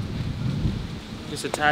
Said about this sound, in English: As you can see, it's a tad windy